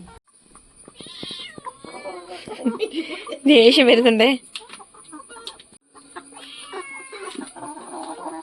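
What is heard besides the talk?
kitten crying among chickens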